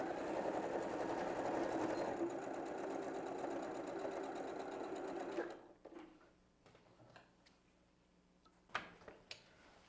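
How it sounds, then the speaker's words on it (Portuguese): A sewing machine runs steadily for about five seconds, stitching a bag lining closed with thread matched to the lining, then stops, leaving quiet handling sounds and a few soft clicks. "aí vai para a máquina com linha da cor do forro e vai fazer uma costura aqui fechando essa abertura"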